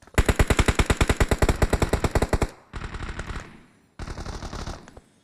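Rapid automatic gunfire in the PUBG battle royale game, Livik map: a long sustained burst of evenly spaced, loud, close shots, then two shorter bursts after brief pauses.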